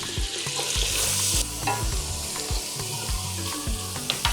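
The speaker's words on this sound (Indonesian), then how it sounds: "Tapi terlebih dahulu saya goreng-goreng dulu sedikit." Frying and stirring wild spring onion leaves with anchovies in a pan gives a close, steady sizzle, with repeated scrapes and clinks of a utensil against the pan.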